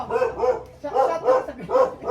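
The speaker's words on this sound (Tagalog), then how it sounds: "Aso, kaya nga ingay." A dog barks repeatedly nearby, several sharp woofs in uneven bursts with brief pauses between them.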